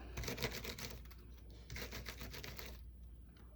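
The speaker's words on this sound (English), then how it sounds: "I'm going to use my thing that I use for die cutting" A die-cutting machine feeds card stock through in a steady, close mechanical clatter of rapid ticking, pausing briefly midway before running again and fading at the end.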